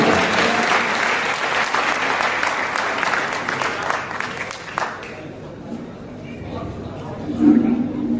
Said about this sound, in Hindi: तालियों से इस्तकबाल करें आलिमा का स्वागत करें।